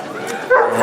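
Sled dogs bred for racing bark and yip loudly at close range, a short burst of excited canine calls.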